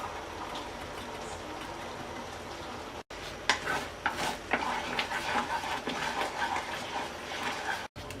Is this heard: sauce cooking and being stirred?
yes